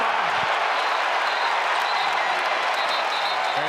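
A basketball arena crowd at a North Carolina Tar Heels game roaring and clapping after a layup, a dense, loud, unbroken wall of cheering and applause with faint commentary voices beneath.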